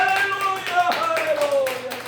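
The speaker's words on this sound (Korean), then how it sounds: "박수, 영광, 박수" A church congregation claps briefly during a worship service, a short burst of hand claps mixed with a voice speaking over the room.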